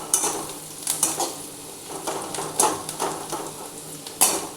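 Onions fry in a pan until lightly browned for a potato and pointed gourd fish curry. A soft sizzle runs under repeated scraping and clinking of a spatula against the pan in uneven strokes, close by and without speech.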